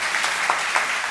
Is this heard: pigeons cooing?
no